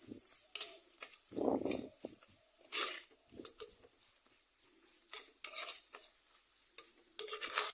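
Turmeric and chilli powder fry in a pan for a mackerel curry. A spoon stirs and scrapes in short, irregular bursts over a faint, low sizzle, and the sound is close and moderately loud.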